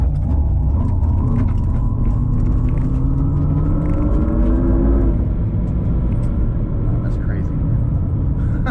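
A GMC Hummer EV electric truck launching hard, a loud steady electric whine and rising rumble filling the cabin, with a tone that climbs then levels off as people talk over it.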